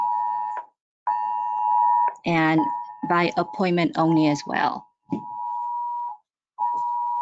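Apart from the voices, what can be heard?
emergency alert beeping on a phone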